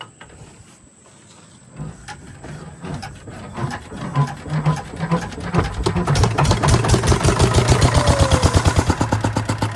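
A boat's diesel engine in the Sundarbans starting up: quiet mechanical clatter builds into a loud, rapid, steady chugging thump that grows stronger and more regular as it settles into running.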